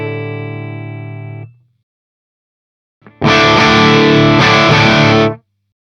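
Electric guitar through a Synergy Syn20IR with a Fryette Deliverance preamp module: a sustained clean-ish chord fades out, then after a pause a loud, thick, heavily distorted chord crunches for about two seconds before cutting off.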